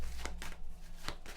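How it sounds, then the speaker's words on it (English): Quick riffling bursts of tarot cards being shuffled, three or four close flutters with short pauses between, no voices. "So I'm going to shuffle"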